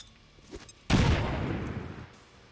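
A grenade detonates in XCOM 2: Long War of the Chosen as a single loud, close blast. A sharp crack gives way to a rumbling roar that fades over about a second, and a faint voice comes just before it.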